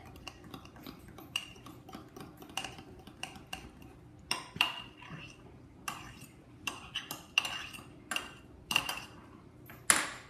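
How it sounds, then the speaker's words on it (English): A fork stirring tincture ingredients in a glass jar, giving a series of sharp metallic clinks and taps at irregular intervals over a quiet background, with no speech. "Then I just take a fork or pretty much any kind and just mix it a little bit"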